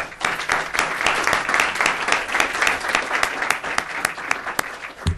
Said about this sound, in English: join me in a round of applause for an outstanding panel